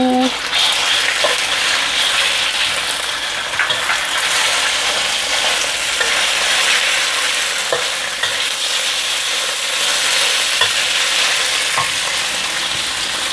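Garlic and marinated pork stir-fry in a pan with a loud, dense, continuous sizzle and hiss, with occasional faint clinks of a utensil and no voices.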